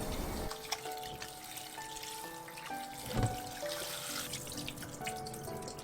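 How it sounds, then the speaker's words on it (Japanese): Cold water trickles and splashes in a kitchen sink as garland chrysanthemum and carrot are rinsed, a close, steady flow with clinks and a splashier burst midway. "春菊と人参は冷たい水にさらして冷まして、よく水気を絞っておきます。"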